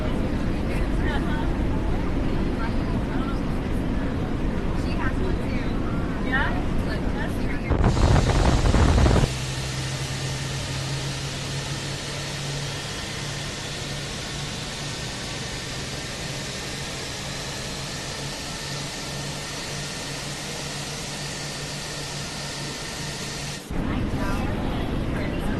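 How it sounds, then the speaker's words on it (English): An SAS airliner engine running in Microsoft Flight Simulator 2024, a steady loud broadband roar with a sustained low drone, holding level after a brief louder surge near the start. "Engine 1 started."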